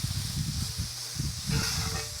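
Onion sautéing in oil on a high flame makes a steady close hiss and sizzle with a low rumbling undertone, continuous throughout without talk.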